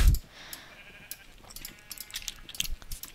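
Sheep in the Minecraft video game bleat faintly in short, scattered calls against quiet game ambience, with no talking.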